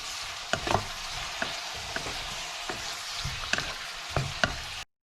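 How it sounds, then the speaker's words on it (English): Onions, garlic and lamb or goat kidneys fry over medium-high heat in a pan, making a soft, continuous sizzle broken by repeated scraping and stirring knocks, close and moderately quiet, without voices. "So I'm going to fry onions, garlic and kidneys together"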